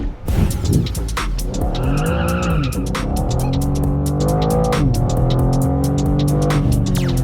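A BMW M2 with track kit revs hard and shifts through gears at high speed racing uphill at the Goodwood Festival of Speed, with tires squealing and loud, sustained roaring close by.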